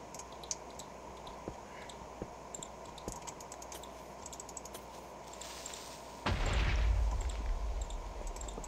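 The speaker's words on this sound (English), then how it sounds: "I have no idea what that explosion was." A deep explosion booms in the Minecraft video game, a sudden low blast rising out of quiet keyboard typing and clicks and fading over a couple of seconds.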